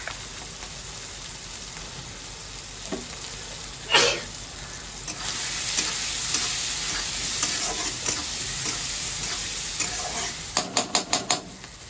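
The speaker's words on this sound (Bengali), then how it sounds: "ঢাকাটা খুলে দিচ্ছি, নাড়িয়ে দিই।" Food seasoned with turmeric, salt and red chilli sizzles in a pan on the stove as it is stirred, with a soft constant frying hiss, one scrape partway through and a quick burst of clattering strokes near the end.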